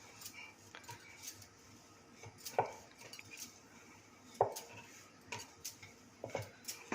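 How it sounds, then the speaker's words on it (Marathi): Pumpkin gharge dough sprinkled with poppy seeds is rolled out with a rolling pin, giving soft irregular knocks and clacks against the board, a few sharper taps standing out over a quiet kitchen. "आपण आता लाटूया"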